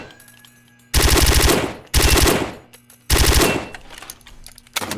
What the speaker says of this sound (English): This is the kind of gun that kicks up after a while.